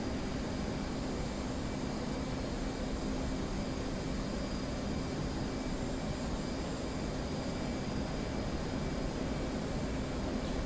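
An F/A-18 jet engine in the DCS flight simulator throttles up, giving a steady dense roar with a faint high whine that stays constant and loud throughout, with no voices.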